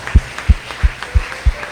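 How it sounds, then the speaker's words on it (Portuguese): A church congregation clapping in slow unison, five evenly spaced heavy claps over a soft room background. "vamos, irmãos, vamos aplaudir o Senhor"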